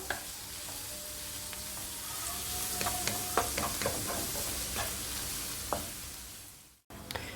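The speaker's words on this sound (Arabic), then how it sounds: "غنبقى نحرك حتى كتشحر حتى هي شويه." Onion and zucchini sautéing in a pan, stirred continuously: a loud, close sizzle with repeated scraping strokes that cuts out briefly near the end, no talking.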